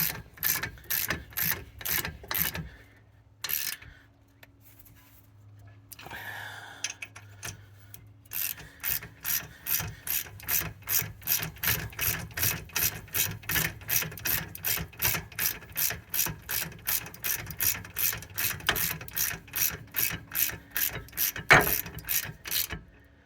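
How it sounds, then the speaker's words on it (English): A ratchet works the 18 mm rear brake bolts on a 2020 Dodge Charger, clicking in fast, even bursts close to the listener, then stopping briefly before long runs of steady, rhythmic clicking resume. "I'm using just a regular old ratchet. It's 18."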